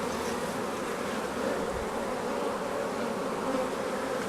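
Honeybees hum inside an active hive: a dense, steady buzzing drone that holds evenly from start to finish, close and continuous, with no voices.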